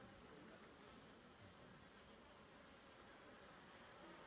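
A steady high insect drone hangs over a quiet outdoor coffee farm at Limmu Kossa in Ethiopia, likely African bees buzzing continuously at a faint, even level with no voices.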